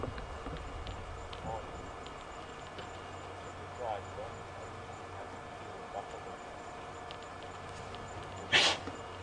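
A sudden sneeze bursts out near the end during an evening safari game drive, sharp and close, rising briefly over a low vehicle rumble and quiet outdoor ambience.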